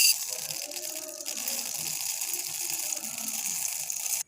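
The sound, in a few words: dry chana dal poured into a bowl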